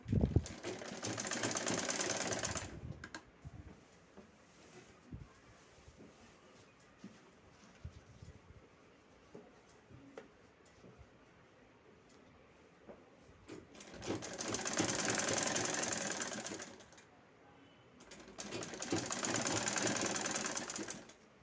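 An electric sewing machine runs in loud bursts at the start and end, stitching a frill between top and bottom layers of baby bedding, with a quieter low mechanical hum between runs.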